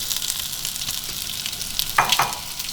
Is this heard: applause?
no